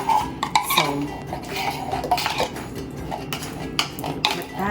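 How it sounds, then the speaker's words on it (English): A spoon clinks and scrapes against a container while scooping out thick syrup in a home kitchen, with busy clattering of utensils and dishes throughout and no talking. "it's thick, so you gotta use a spoon to get it out"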